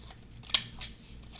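A pair of scissors snips through paper for junk journal ephemera, giving two crisp, close cuts in quick succession against a quiet background.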